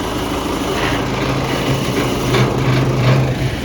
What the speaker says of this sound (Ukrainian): Харт уже працює в повну силу